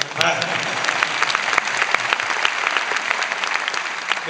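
A festival audience at a Lyon film festival gives a round of applause, dense crowd clapping that starts with a swell and stays steady, with some voices faintly under it.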